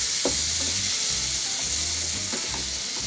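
Masala spices sizzle and fry in a pan for bhindi masala, a loud, dense hiss running continuously with soft scraping stir sounds recurring at regular intervals.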